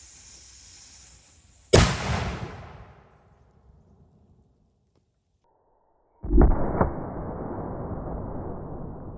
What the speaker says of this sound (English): we got our last shot with our Foster slugs